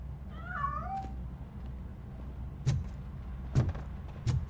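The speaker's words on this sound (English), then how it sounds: "That cat must be hiding inside." A cat meows inside Robocop: Rogue, a drawn-out rising and falling cry near the start, followed by a few sharp knocks and thumps over a low rumbling game background.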